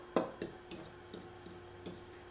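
A fork or small whisk taps and clinks against a bowl while stirring salt, pepper and garlic powder for tuna patties, a few light, sparse metallic ticks spread over a couple of seconds.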